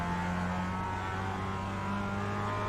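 A Mazda MX-5 Cup race car engine at Tsukuba Circuit, droning steadily at close range with gear changes as it slows into a corner, no talk over it.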